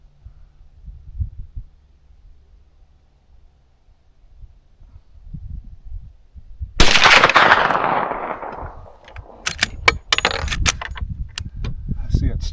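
Several sharp 10mm gunshots crack in quick succession at an outdoor target after a quiet stretch, the first loud report ringing out with a long decay, followed by a rapid cluster of further shots.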